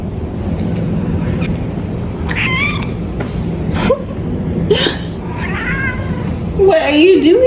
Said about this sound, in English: So there's another cat in this little household here